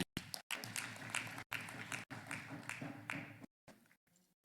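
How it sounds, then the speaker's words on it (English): Applause for the chairman at a bust unveiling ceremony at A.B.U. Zaria, heard as bursts of clapping broken by sharp cuts and brief dropouts, moderately loud and uneven before fading near the end. "A round of applause for the chairman."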